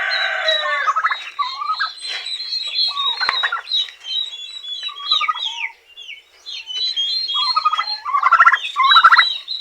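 Turkeys on a poultry farm gobbling loudly and close by, with repeated overlapping bursts broken by short pauses and no talking.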